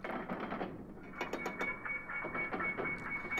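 Elevator being wheeled up in Resident Evil Zero: a steady mechanical clatter with repeated ratchet-like clicks and grinding gear noise, moderately loud and continuous for the whole stretch, with no voices.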